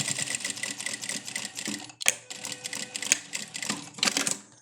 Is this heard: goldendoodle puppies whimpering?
no